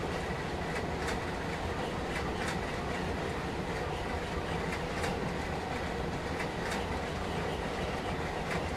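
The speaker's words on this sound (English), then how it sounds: "freight trains run by a platform like that" A freight train rolls steadily past a platform in Train Sim World, a loud, continuous rumble with regular clickety-clack wheel beats throughout and no talking.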